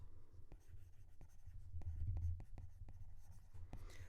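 Pen-on-paper handwriting, quiet and close, with a string of small scratchy strokes and taps over a low background hum.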